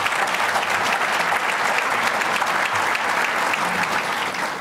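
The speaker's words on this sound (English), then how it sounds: "Let's give him a round of applause on the way out." A large audience at a business newsmakers awards event gives a full, loud round of applause, continuous and even throughout as an honoree leaves the stage.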